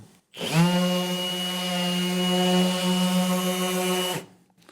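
A Milwaukee 5-inch random orbital sander switches on and runs steadily for about four seconds with a strong, even motor whine, close and loud, then spins down and stops.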